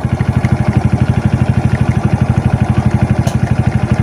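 A Suzuki Titan motorcycle engine with its battery disconnected and a faulty regulator runs close and loud in a fast, even pulsing chug, about ten beats per second, with no voices over it.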